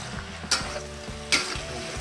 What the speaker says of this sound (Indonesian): Aduk-aduk hingga rata ya.